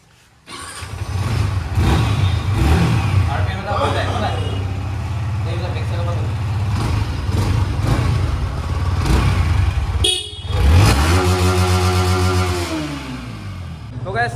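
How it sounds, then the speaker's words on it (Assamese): A new Yamaha motorcycle's exhaust note, idling with a steady low rumble before a sharp rev that rises and falls near the end, with a person talking over it. "এতিয়া এক্সজষ্ট নোটটো শুনি লওক"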